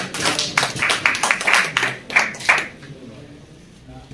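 A crowd at a Kashmir pigeon sports club award ceremony claps for an award recipient, a burst of dense, fairly close applause for about two and a half seconds that then stops, leaving quiet with faint voices.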